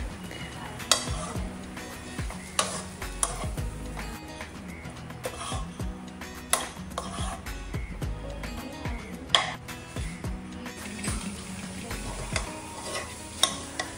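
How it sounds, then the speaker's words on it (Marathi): Thalipeeth flour mixture with fenugreek leaves being sautéed and stirred in a pan, with a steady scraping of a spatula and light sizzling, plus occasional sharp clinks of utensil against the pan, close and continuous. "मस्त ह्याला फक्त अगदी 2च मिनटं परतून घेऊ"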